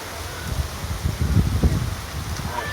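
Heavy rain pours onto a roof at an outdoor highline festival, a dense close wash of drumming and rustle with low thuds throughout, no voices.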